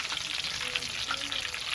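Prawns fry in peanut oil with a steady, close, crackling sizzle and no talking.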